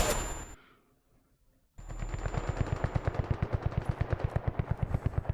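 A turret in the video game Zero Caliber fires rapid automatic bursts. A sharp opening shot is followed by a short silence, then a long, steady string of loud, evenly spaced shots.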